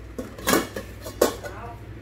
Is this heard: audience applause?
no